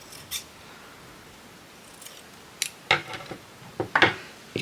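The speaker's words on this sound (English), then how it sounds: "my scissors are really noisy hitting the table" Big heavy scissors trim a yarn pom-pom, clacking against a tabletop in a cluster of close, crisp snips and knocks after a quiet start.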